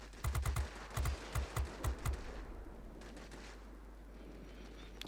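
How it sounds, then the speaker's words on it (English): Machine guns on a Spitfire XIV in World of Warplanes: several quick rattling bursts fire over a steady engine drone, then the shooting stops and only the engine hum continues. "I can't resist shooting at a big HP pinata like a ground attacker, so I do spend a little time shooting at that"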